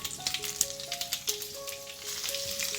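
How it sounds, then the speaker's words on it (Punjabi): Chopped green chilies frying with fennel, asafoetida and spices in hot oil, a steady close sizzle with light crackles and occasional stirring. "ਮਿਰਚਾਂ ਨੂੰ ਮਸਾਲਿਆਂ ਨਾਲ ਮਿਕਸ ਕਰਕੇ ਆਪਾਂ ਬਸ ਇੱਕ ਅੱਧਾ ਮਿੰਟ ਭੁੰਨਣਾ ਹੈ"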